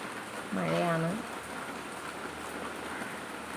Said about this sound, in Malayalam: പുറത്ത് നല്ല മഴയാട്ടോ